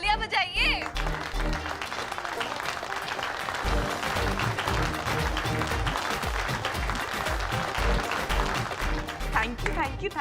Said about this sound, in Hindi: अरे गुड्डन जी के लिए तालियां बजाइए।